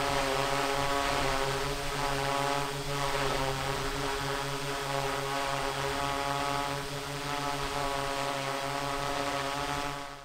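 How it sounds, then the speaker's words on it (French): A V-COPTR Falcon drone with large propellers flies close by, giving a steady, even propeller drone and buzz that holds at the same level throughout with no talk. "On a un drone qui est très silencieux,"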